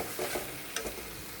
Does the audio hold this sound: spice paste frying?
yes